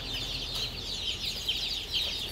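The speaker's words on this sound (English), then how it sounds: "our chicks have arrived" Day-old baby chicks peep in a dense, continuous chorus of high, thin chirps. They sound close and moderately loud, with no talk.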